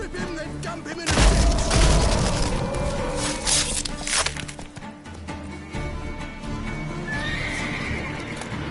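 A horse in The Witcher 3 sets off at a gallop, its hooves clopping rhythmically and loudly, with a sharp neigh and whinny near the start amid booming game sounds and background effects.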